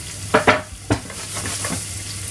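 Onions and pepper stir-fried over high heat, a steady close sizzle with several sharp scraping stirs early on, then continued frying hiss.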